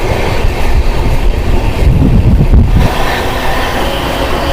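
Lal Kuan Amritsar Express rumbling steadily along the rails near Roorkee, a loud continuous low rattle and roar of wheels and carriages with no talking.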